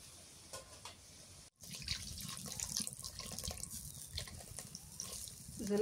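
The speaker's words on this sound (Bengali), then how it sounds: "কষাই নিয়ে তারপরে জলের পানি দিয়ে দিই।" Water is poured into a cooking pan of fried eggplant and spice paste, a soft steady running and splashing that starts after a brief silence and slowly grows louder, faint and close, with no talking.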